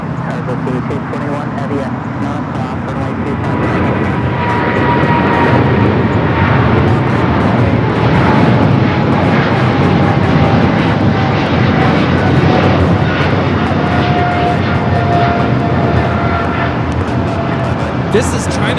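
A China Airlines Cargo Boeing 777 freighter takes off at LAX, its engines building into a loud, steady roar that holds for the whole stretch, with voices talking faintly underneath.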